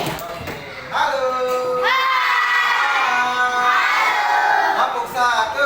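A group of schoolchildren in a classroom shouts "hore" together in long, sustained, high-pitched chanted cries, loud and close, with a short pause between two drawn-out bursts.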